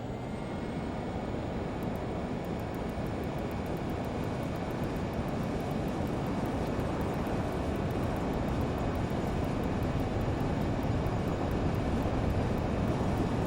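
Learjet 35A jet engines spooling through a takeoff roll in Microsoft Flight Simulator: a loud, steady, unbroken roar that holds level throughout, with no voices.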